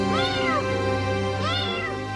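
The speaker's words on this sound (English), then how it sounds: "On the way to his shop, this man heard a kitten crying." A kitten meows twice, two high, plaintive cries about a second apart, close and clear over a low steady background hum.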